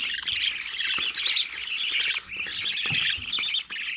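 Baby birds in a nest chirp and squawk continuously and close up, a dense, shrill, overlapping chorus with no one speaking.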